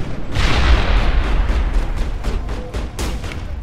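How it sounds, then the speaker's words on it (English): A grenade goes off in the video game Mass Effect, a loud booming blast that rumbles on with crackling debris and a few sharper bursts near the end, with no talking over it. "throw the grenade."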